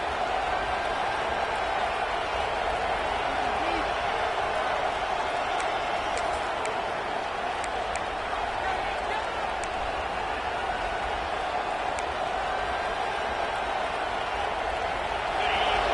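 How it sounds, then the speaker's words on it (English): A college football stadium crowd for Georgia vs BYU roars in a steady, loud wall of cheering and noise while the home defense is in the red zone, sustained and unbroken throughout. "This crowd is trying to inspire this defense to make a big red zone stop."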